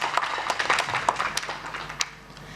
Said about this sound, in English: A round of applause to him, please.